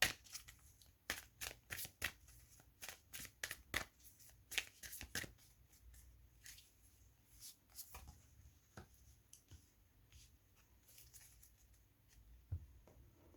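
Tarot cards shuffled by hand, a quick run of crisp riffling flutters and soft slaps in irregular bursts, close and fairly quiet, with short pauses between handfuls.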